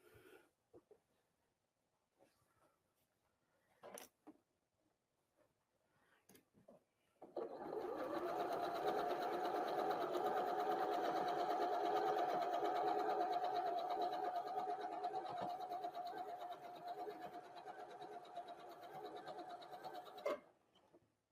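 A sewing machine stitching a quarter-inch seam on a quilt block runs steadily for about thirteen seconds after a few quiet handling clicks, close and fairly loud, then stops.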